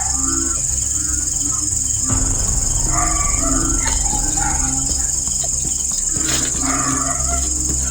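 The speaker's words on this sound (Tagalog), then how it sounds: "May tunog na ng mga aso." Dogs bark intermittently in the middle distance over a constant, shrill chorus of night insects in a rural forest.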